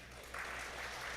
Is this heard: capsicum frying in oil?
no